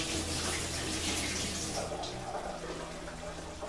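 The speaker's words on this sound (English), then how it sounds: "So I'm just gonna drain the water and put this in here" Water from a basin of soaked, cut aubergine pours and splashes steadily as it drains, a continuous close rushing wash that eases slightly toward the end.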